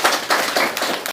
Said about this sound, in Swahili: Tumpigie makofi sana.